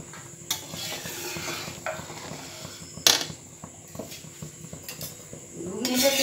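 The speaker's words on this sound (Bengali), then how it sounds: "এইখানে এই যে ঘুগনি ফুটে গেছে, কমিয়ে দিয়েছি" A pot of ghugni, a spiced pea curry, simmers on a turned-down flame with soft bubbling and light sizzle, broken by a few clinks of utensils and a sharp knock, while someone talks faintly nearby.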